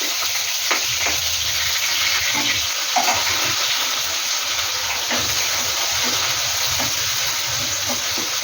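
Onions frying in a pan for a Karnataka-style bassaru, a steady dense sizzle that stays loud and even throughout, with faint stirring clicks on top and no voices.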